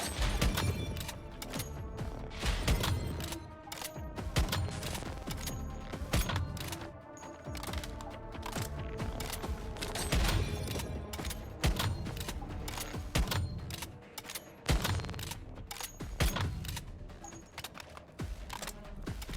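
Rapid gunfire from the survival shooter game Once Human crackles in a dense, continuous stream of sharp shots at a steady, fairly quiet level for the whole stretch, without talk.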